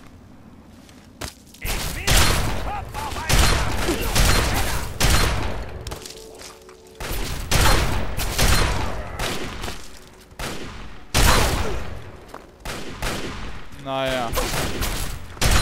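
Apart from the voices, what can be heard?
gunfire from a new weapon in video game Fallout 3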